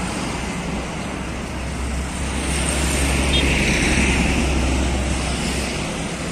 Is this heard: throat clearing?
no